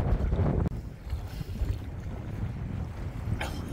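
A sailboat heads into the wind, with rushing wind noise and water wash close by, a sharp bump near the start and the hiss rising again toward the end, with no voices.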